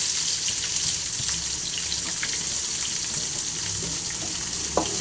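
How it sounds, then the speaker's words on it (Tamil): Onions salted and frying in a pan for a Tamil egg masala curry give off a steady, close sizzle with faint crackles throughout, no voices over it. "உப்பு போட்டு வெங்காயம் நல்லா ஃப்ரை ஆகணும்"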